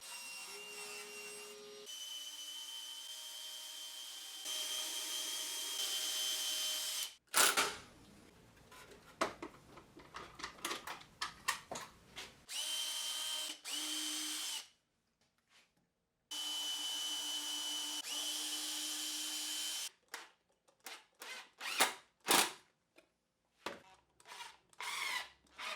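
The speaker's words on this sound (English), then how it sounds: "So I drilled out the bottom." An electric drill bores out the bottom of a wooden box in several separate runs, each a sustained whirring grind broken by pauses and woody knocks, heard close and alone.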